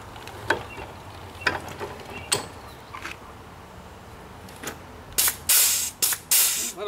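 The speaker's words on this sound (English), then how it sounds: "got my air powered grease gun" An air-powered grease gun fires in sharp, hissing pneumatic bursts close by, with a few short spurts early on and then longer, louder blasts near the end.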